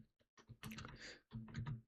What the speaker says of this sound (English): I will be using touch typing as well.